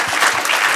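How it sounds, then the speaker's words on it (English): A short snatch of audience applause at the HDSR 2019 data science conference, a loud, dense crowd clapping heard only briefly. "I think we as a crowd owe you guys a big round of applause"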